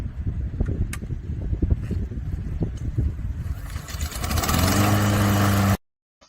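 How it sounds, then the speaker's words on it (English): A lawnmower engine sputters through a few rough pulls under outdoor rumble, then catches and runs at a loud, steady idle for over a second before cutting off abruptly. "Let's get that lawnmower started."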